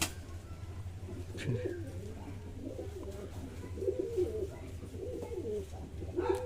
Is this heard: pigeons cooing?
yes